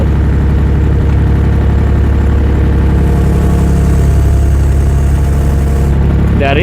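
A 1-ton JoyT5 JT5WL1000 wheel loader runs close and loud with a steady engine drone and hydraulic whine while lowering its bucket, releasing the quick hitch and curling, as someone talks over it.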